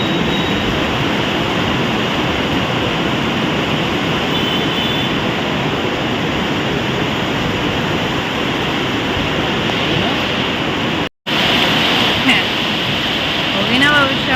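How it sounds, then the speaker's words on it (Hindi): Heavy rain roars continuously at a metro station while trains run nearby, forming a loud, dense wash of noise with a brief dropout near the end and faint wheel squeals afterward. "We are stuck in the rain at the metro station."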